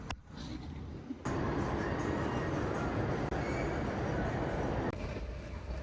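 Interior of a moving metro train: a loud, steady rumble of wheels and carriage noise that swells sharply after the first second and holds, with no speech over it.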